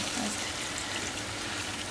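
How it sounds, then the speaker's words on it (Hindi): A steady rush of water pours into a kadai of frying vegetables for kadai paneer, a continuous hissing splash lasting a couple of seconds. "अभी हम उसमें थोड़ा सा पानी ऐड करेंगे"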